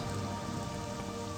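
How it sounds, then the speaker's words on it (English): Steady rain falls in the Morrowind game world, a dense, even hiss of drops that holds unbroken and alone through the whole moment. "It's raining."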